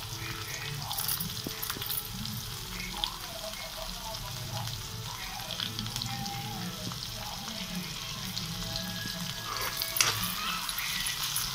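Onions, green chillies and spring onions frying in a pan with small bay leaves for an omelette pulusu, a continuous soft sizzle with light stirring, fairly quiet and steady.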